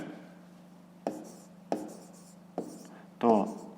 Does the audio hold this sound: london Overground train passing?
no